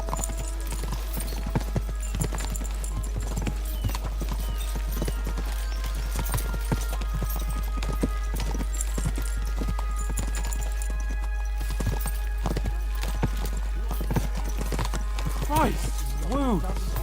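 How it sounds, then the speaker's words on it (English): Horses' hooves clip-clop in a quick, uneven rhythm during a hurried ride, close and persistent, with people talking and a horse whinnying briefly near the end. "We should spur the horses on."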